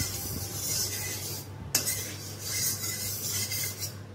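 Semolina stirred into warm ghee in a pan, a steady soft scraping and rasping of the spoon against the pan with one sharp clink partway through, no talk.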